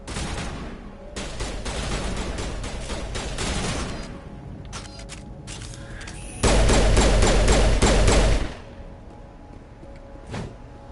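Gunfire in Mass Effect Legendary Edition comes as dense, continuous volleys of rapid shots, with a louder, heavier stretch of fire near the end before it eases to scattered shots. No one speaks.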